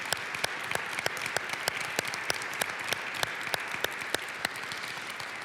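An audience at a policy roundtable gives sustained applause for the panel speakers, with dense, even clapping from a full room throughout.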